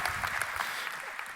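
Brief, steady burst of clapping from an audience, fairly moderate in level and continuous for the whole moment.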